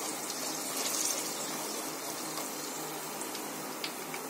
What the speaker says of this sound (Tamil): அதில் எண்ணெய் 100 கிராம் எண்ணெய் சமையல் எண்ணெய் ஊற்றிடுங்க.